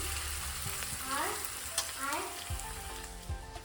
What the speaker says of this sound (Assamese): আদা ৰচুনখিনি ধুনীয়াকৈ ৰঙচুৱা হোৱালৈকে ভাজি ল'ম